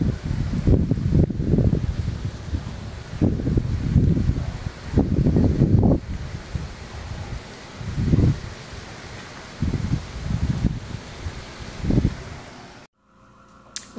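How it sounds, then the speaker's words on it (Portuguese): Strong cyclone wind in Santa Catarina, Brazil, roars in gusts, swelling and fading in repeated surges of low rumbling buffeting, then cuts off abruptly near the end. "Ó, já começou o vento. Tá ventando bastante."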